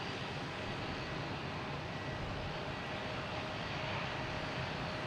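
Aircraft noise at Logan Airport as a Lufthansa jet is pushed back from the gate: a steady, broad engine roar and rumble holds evenly throughout, moderately distant, with no talk.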